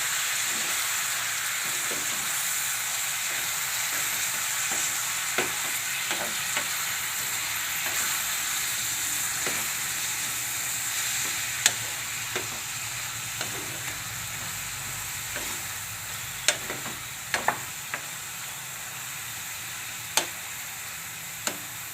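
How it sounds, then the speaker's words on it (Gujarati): Methi greens stirred in a hot pan for a methi karela shaak, a steady soft sizzle running throughout with scattered sharp clicks of the spoon against the pan, no voices. "હવે આપણે ભાજીને મિક્સ કરી લેવું"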